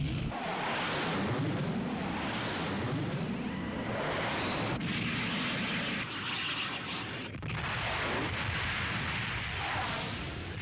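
Jet aircraft engine roar in the Macross 7 anime, a loud continuous rumbling blast that swells and sweeps through passes, with booming bursts layered over it and no talking.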